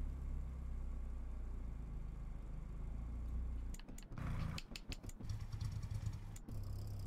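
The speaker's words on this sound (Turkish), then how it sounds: "Motor sesleri değişiyor bu arada." Lamborghini engine in the racing video game Need for Speed Unbound idles steadily, then breaks into a series of sharp revving bursts and throttle blips, loud and close, with no talk.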